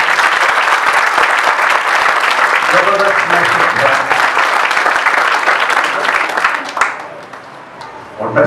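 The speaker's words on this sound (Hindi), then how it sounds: "भाई के लिए जोरदार तालियां बजाते हैं।" Loud, dense applause from a church congregation at a Sunday sermon fills most of the stretch, then thins and fades toward the end.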